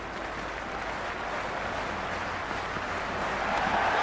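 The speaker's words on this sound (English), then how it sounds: "The crowd are making a heck of a lot of noise even before the first ball's been bowled." A cricket stadium crowd at an India vs South Africa T20 match roars and cheers continuously before the first ball, a dense, steady wall of noise that swells slightly toward the end.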